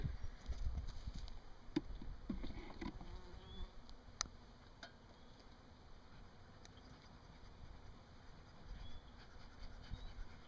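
Honeybees buzzing around a single backyard hive, a steady faint drone with scattered louder passes as individual bees fly close, no talking.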